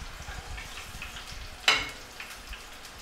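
Insects fry in hot oil while being stirred, giving a steady crackling sizzle. One sharp clatter from the stirring stands out midway.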